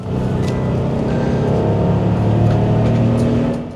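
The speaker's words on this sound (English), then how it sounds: "You hear that 6-cylinder truck purr?" Six-cylinder truck accelerating hard on a highway: a loud, continuous engine drone with layered harmonics that holds steady and close for several seconds, with no talk over it.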